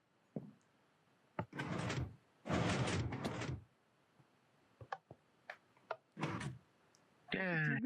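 Door sounds in a Minecraft-style video game, heard as several separate opening and closing bursts and clicks spread over a few seconds, fairly quiet, with a short whirring sweep at the end.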